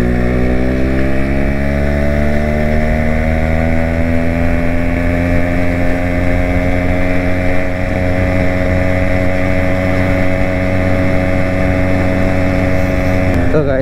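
Yamaha RX135 motorcycle engine running steadily while riding, a loud continuous two-stroke drone with rising and settling tones throughout, no talk over it.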